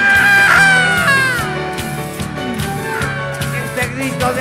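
Crowd at a 2019 cuarteto night at the Sargento Cabral, shouting and cheering loudly over live band music, with one strong scream standing out near the start.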